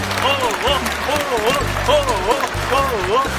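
A stadium crowd at an FC Seoul versus Gangwon FC football match claps and chants in unison, rising and falling voices riding over rhythmic low beats.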